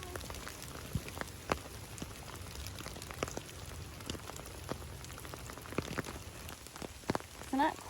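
Rain falls steadily in a Florida park, a soft, distant patter dotted with sharper drops landing on nearby surfaces, quiet and without clear voices.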